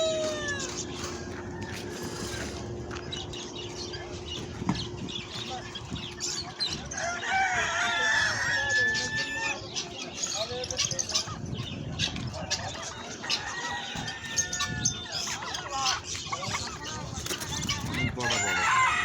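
Guinea fowl and other poultry call and cluck together at a bird market alongside quails and pigeons, a busy overlapping chorus of bird calls with steady background hum and some talk nearby.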